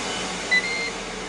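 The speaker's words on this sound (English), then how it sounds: "It's fixing to beep to say it's done." A Ninja Foodi cooker baking a cherry pie gives a short electronic beep as it finishes, a single brief tone over a steady fan-like hum.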